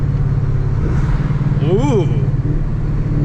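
A Ford truck with a 10R80 automatic transmission downshifts under a steady engine rumble, the engine note sweeping up and back down in a brief blip, heard from inside the cab with a short exclamation.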